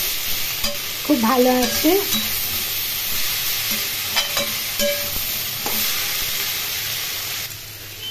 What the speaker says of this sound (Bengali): সমস্ত উপকরণ এখন খুব ভালো করে ভেজে নেব।